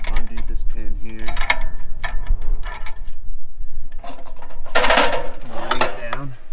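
Pin being undone on the ladder rack of a Dodge Ram ProMaster window-cleaning work van: close metallic clicks, ticks and rattles in quick irregular bursts, with a louder scraping clatter near the end.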